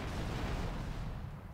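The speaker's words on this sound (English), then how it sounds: "2 explosions." Explosions in GTA Vice City, a dense low rumbling blast that fills the short stretch and fades slightly toward the end, fairly quiet overall, no talk.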